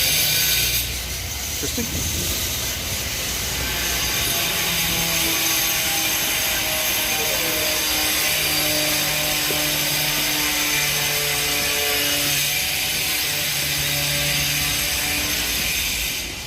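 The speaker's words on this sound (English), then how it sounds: "Sorry for the angle grinder." An angle grinder runs loud and steady with a harsh, high whine during a live street walk in Mons, Belgium, a shifting tonal drone continuing throughout with a brief spoken word near the start.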